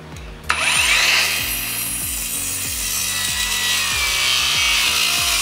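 An Akaido AKCS125BL compact circular saw cuts through wood, a loud steady whine after a sharp start, with a rhythmic pulsing grind running under it for the whole cut.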